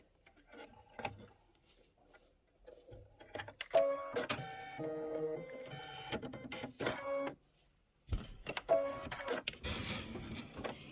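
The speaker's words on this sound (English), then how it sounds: "Step number 4 says stitch the flower 2 placement line." An embroidery machine stitches a flower placement line in green thread, giving irregular tonal beeps and rapid ticking mechanical runs with short pauses and one clear silent gap, with no voices.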